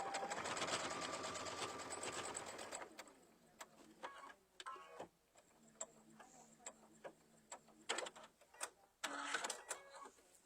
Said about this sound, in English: I'm going to sew this side again